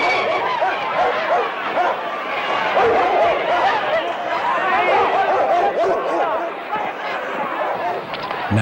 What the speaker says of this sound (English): brought out the city's police dogs